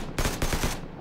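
Rapid burst of gunfire in PUBG, three or four loud close shots in quick succession with no talk.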